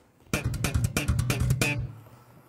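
Rapid machine-gun triplet bursts of slapped and popped bass guitar notes, punchy and percussive, stopping abruptly after about a second and a half.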